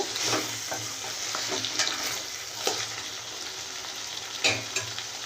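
Drumstick (munagakaya) curry simmering in a pan after five covered minutes, with a steady close sizzle and bubbling, broken by a few scraping stirs.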